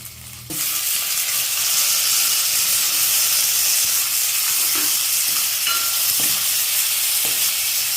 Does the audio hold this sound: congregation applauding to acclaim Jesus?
no